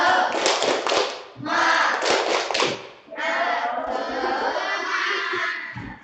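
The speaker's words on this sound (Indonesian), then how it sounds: "Tepuk semangat." A class of sixth-grade pupils performs a rhythmic spirit clap in an elementary school classroom in Denpasar, bursts of patterned clapping mixed with children's chanting voices, loud and close, in three energetic phrases.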